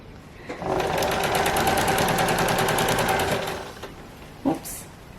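A sewing machine runs long basting stitches through skirt fabric, a close rapid mechanical whir of needle strokes lasting about three seconds, then stopping, followed by a brief clunk.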